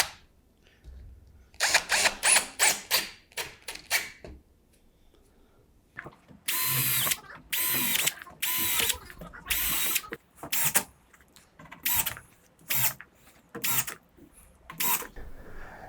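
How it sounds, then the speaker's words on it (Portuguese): A power drill bores a 3 mm hole and drives 4x20 screws into a cabinet side panel, sounding in repeated whirring bursts of a few seconds each separated by short quiet pauses. "Eu vou fazer um furo de 3 milímetros e usar um parafuso de 4 por 20."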